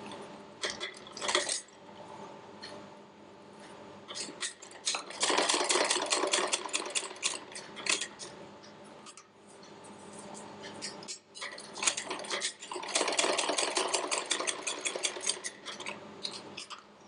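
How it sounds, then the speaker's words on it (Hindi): A sewing machine stitches fabric for a homemade front-button bra in short bursts of rapid, close mechanical clatter. Quieter pauses separate the bursts, and there is no talking. "ये देखिए यहाँ से यहाँ तक हम सिलाई करेंगे।"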